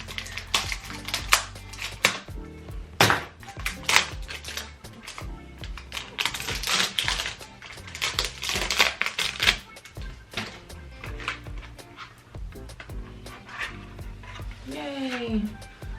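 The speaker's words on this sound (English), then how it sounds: "I'm just gonna go ahead with my scissors and unbox it" Scissors snip and tear open a Chanel Chance perfume box, producing close, irregular clicking and crinkling cuts in quick bursts, with packaging rustle between them.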